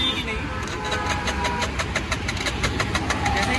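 A Suzuki Access 125 BS6 scooter with an empty petrol tank cranks repeatedly without starting, giving a steady, close mechanical churn with a regular pulsing rhythm while someone talks over it.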